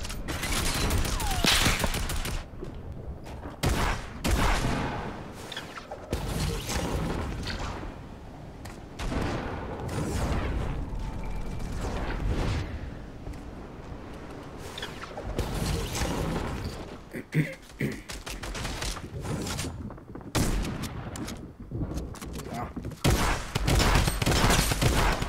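Fortnite gameplay with repeated loud gunfire, sharp shots and bursts scattered among game sound effects and movement noise. A few quieter stretches break up the firing.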